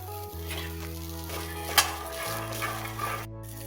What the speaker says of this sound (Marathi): आपण इथे कढईमध्ये मटर चांगल्यापैकी भाजून घेणार आहोत